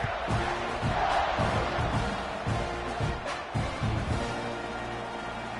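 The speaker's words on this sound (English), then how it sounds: "this crowd is feeling themselves after that last drive" A football stadium crowd roars and cheers after a scoring drive, a dense, distant wash of voices with rhythmic surges and claps, a commentator talking over it.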